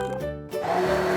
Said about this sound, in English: it's a blender full of balls